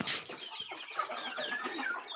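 Home-raised hens and roosters cluck steadily in a close, busy chorus of overlapping calls, with no voices over them.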